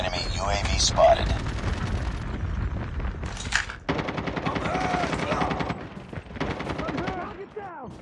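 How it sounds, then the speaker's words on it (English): Rapid automatic gunfire rattles through a match of the mobile shooter Call of Duty Mobile, bursts of shots stacking over game sound effects and chatter, with voices calling out during the action. "Gunshot!"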